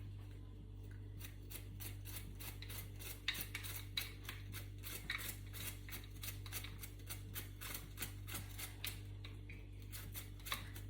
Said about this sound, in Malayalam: നമുക്ക് ചെറുതായിട്ട് ഇതിനെ അരിഞ്ഞെടുക്കാം.